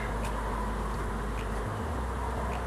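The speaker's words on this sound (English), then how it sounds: "They're bees." Steady, dense insect buzzing fills the air, a continuous drone of many bees close by at an open beehive, with a low rumble underneath.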